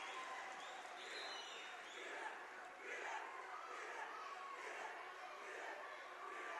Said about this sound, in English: The Woodlake football team leading some cheers in the student section